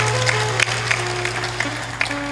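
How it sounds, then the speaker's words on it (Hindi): An audience at a Hindu devotional discourse on true bhakti, giving sparse, scattered claps over a steady electrical hum from the sound system. "अब की ताली लगाया है तुमने"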